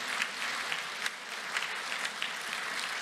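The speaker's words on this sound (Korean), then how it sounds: "대표님 잠깐 올라오시면 박수를 한번 주시면 좋겠습니다" Applause from a large audience at an Easter union church service, steady clapping sustained across the whole stretch, heard from within the hall.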